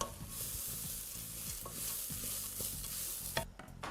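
Chickpeas and seeds frying with curry powder in a pan sizzle steadily while a utensil stirs and scrapes in repeated strokes, close and continuous without talk.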